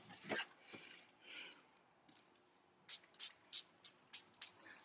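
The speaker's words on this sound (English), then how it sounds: "I'm gonna just grab any spray" A spray can misting ink or color onto mixed media craft tags: six short sharp hissing bursts in quick succession near the microphone, after a few quieter rustles and handling sounds.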